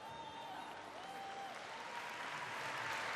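Sustained crowd applause for a gymnast at the Osijek World Cup, a steady wash of clapping that holds throughout and swells slightly toward the end, with no speech.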